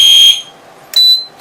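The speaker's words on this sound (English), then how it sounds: "That concludes Home Fire Alarm System Test number 1." A home fire alarm system sounds during a test with loud, close, shrill electronic beeps in short bursts separated by brief silences.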